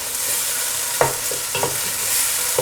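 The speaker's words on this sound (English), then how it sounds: "And we're going to cook the tomatoes until they're nice and soft without the lid on." Tomatoes frying in spiced oil in an open pan give a steady close sizzle, broken by a few soft stirring scrapes.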